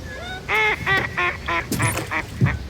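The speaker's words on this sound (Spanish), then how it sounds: "Un pato ha dicho ¡ah!" A duck quacks in a rapid series of loud, nasal honking calls near the listener, with several bursts spaced over a few seconds outdoors by water.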